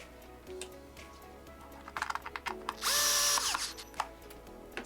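A power driver spins a screw into an Arrma Granite 3S RC car during a refit, short bursts of whirring with clicks and taps building to a louder sustained run near the end, close and alone.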